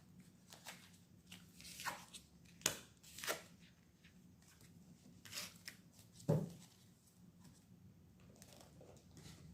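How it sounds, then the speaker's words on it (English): Tarot cards are shuffled by hand in a quiet room, soft riffling and sharp flicking bursts coming irregularly, with a few louder snaps and gentle handling noises in between. "I can't take those, so I'm going to have to shuffle again"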